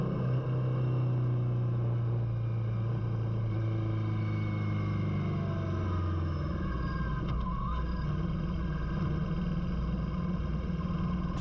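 Steady engine drone and wind roar from a Kawasaki Vulcan S motorcycle on a country road, loud and continuous, with the engine note dropping partway through.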